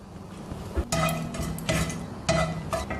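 Whole spices, cinnamon and cloves, sizzle and crackle in hot oil in short bursts, with a few soft clinks of a utensil against the pan.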